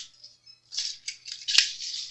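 Strip of tape peeled off a 1963 Gibson ES-120T guitar, a few short quiet crackling rips with a sharp snap near the end, close and alone.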